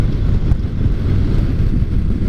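Wind roars and buffets across the microphone while riding a 2014 Yamaha Star Bolt R-Spec motorcycle, a loud, continuous, low rumbling gust with no clear voices.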